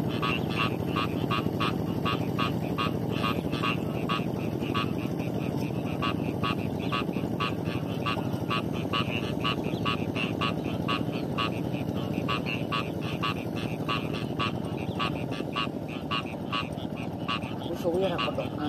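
Frogs croak steadily in a dense, rapid rhythmic chorus that runs throughout, with a low rumbling background underneath.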